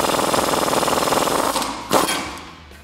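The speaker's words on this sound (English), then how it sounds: "now I'm gonna be using that 22 millimeter deep socket as well as a half inch extension and our impact wrench in order to punch out those tabs" An impact wrench fitted with a 22 mm deep socket and half-inch extension hammers out metal tabs on a Jeep Wrangler JK, a loud rapid rattling burst that stops abruptly, followed by a short clank.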